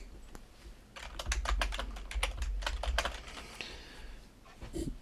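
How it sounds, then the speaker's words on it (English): Keys on a computer keyboard are typed in a quick, close burst of crisp clicks lasting a few seconds, with a short pause before a final tap, heard alone without talk. "Type in the name of the operating system."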